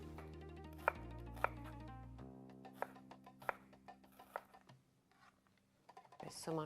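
Red onion being chopped with a knife on a board in a kitchen, a few sharp separate knocks followed by quicker, lighter cuts, close and fairly quiet.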